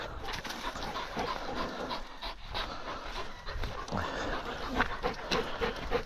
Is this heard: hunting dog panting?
yes